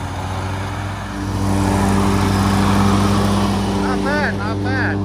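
A lawn mower cutting grass runs steadily with a droning engine hum that swells slightly in the middle, and a bird or squeak chirps near the end.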